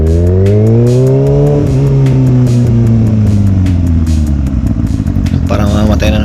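A motorcycle with a freshly replaced cylinder head gasket revs loudly on a test ride, its pitch rising and falling through gear changes, close and continuous with wind noise.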